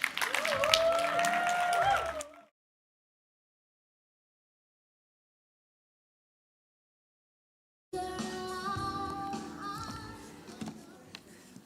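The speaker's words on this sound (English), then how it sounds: "A round of applause, please." Audience applause at a morning session of a women's development conference, a burst of clapping that stops abruptly, then a long silence before clapping and cheering return, mixed with voices.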